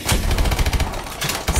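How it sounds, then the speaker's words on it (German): Rapid automatic gunfire in the Call of Duty Advanced Warfare singleplayer campaign, loud and close, with dense bursts of shots, a short lull, then more firing. "Der Gegner steht direkt vor dir und du schießt einfach genau um ihn rum."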